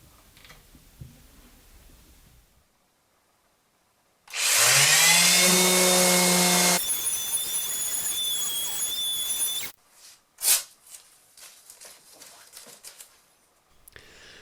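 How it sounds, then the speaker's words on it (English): A Festool or cheap orbital sander starts up loudly on wood with a rising whine, runs steadily for several seconds, then cuts off, followed by a few faint clunks. "And we do a minute's sanding on this spot"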